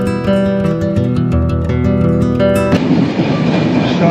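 The Dhumketu express from Dhaka to Rajshahi runs along, first under a stretch of loud tonal music, then as a steady broadband rumble and rush of the moving carriage.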